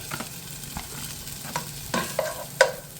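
Onions sauté in a pan with a constant low sizzle. Occasional scraping stir strokes and light utensil clicks grow a little louder toward the end.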